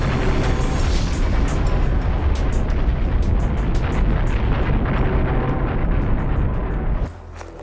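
An explosive rhyolite volcanic eruption at Yellowstone gives a loud, dense, continuous roar with crackling bursts for about seven seconds before it drops away abruptly.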